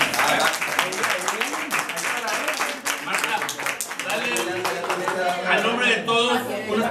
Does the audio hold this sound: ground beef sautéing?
no